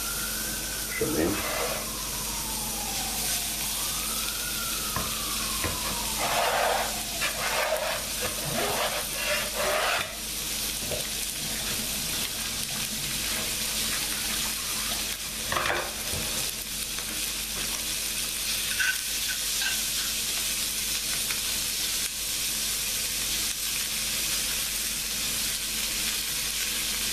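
A cube of beef fat bubbles and sizzles steadily in a hot pan, a constant hissing crackle with occasional sharper pops, and a faint voice briefly audible.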